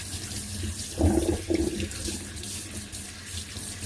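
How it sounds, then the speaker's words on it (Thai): Tap water running over vegetables in a sink, with a steady close stream and two brief louder splashes near the start as the leaves are rinsed. "ล้างลูกใบเขาให้สะอาดนะคะ"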